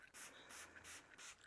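AutoBrite Direct Ceramic Ultra Spray Wax is sprayed from a pump spray bottle in four quick, rhythmic, faint hissing bursts with no talk.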